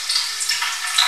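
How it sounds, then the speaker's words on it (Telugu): Curry leaves hiss and crackle as they fry in hot oil for an Andhra fish curry, a loud continuous close-up sizzle with no talking. "ఆయిల్లో కొంచెం కరివేపాకు వేసి ఫ్రై"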